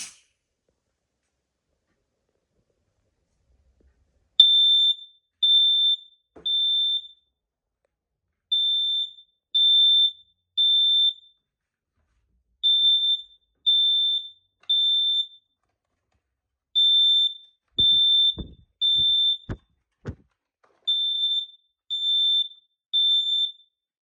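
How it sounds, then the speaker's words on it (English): Kidde PI9010 dual sensor smoke alarm sounding its loud, piercing beeps in repeated groups of three, with brief gaps between each set and a few faint knocks underneath. "I'm also going to be testing the hush feature on this unit to ensure that the alarm stops sounding when the hush button is pushed."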